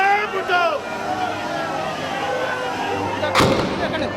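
A sharp, loud bomb blast bursts out near the end over a steady roar of rally crowd noise and overlapping voices.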